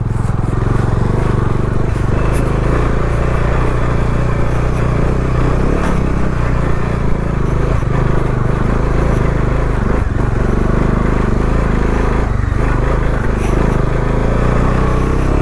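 A Bajaj Dominar motorcycle engine drones and revs loudly and continuously on an off-road trail, with scraping and clattering as the tyre slips, close and dominant throughout.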